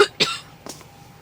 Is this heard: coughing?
yes